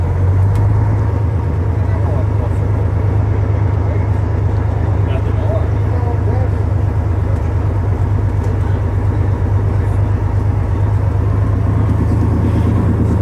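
A vintage Daimler Fleetline bus with a rear engine drones steadily during a ride, a loud low rumble holding throughout with cabin rattle, while someone talks over it.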